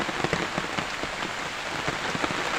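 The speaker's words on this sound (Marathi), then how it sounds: "या पाऊस पण आलेला आहे" Steady rain in a Konkan village pattering on a hard surface, a dense crackle of drops close by with no voices.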